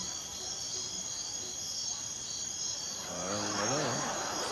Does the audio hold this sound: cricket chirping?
yes